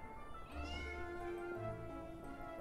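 Cats in the Trine 4 video game meow in a couple of drawn-out, moderately loud calls over a steady musical background, with no talking.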